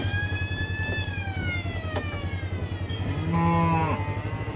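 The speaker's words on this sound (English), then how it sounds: "we can sort these cows and the bull back over here." Cattle on a Texas ranch, cows and a bull, low drawn-out moos over a steady engine-like hum, with a rising and falling higher call near the end.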